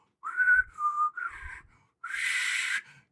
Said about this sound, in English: What are you going to whistle Dixie?